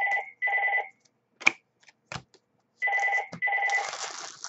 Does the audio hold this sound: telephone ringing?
yes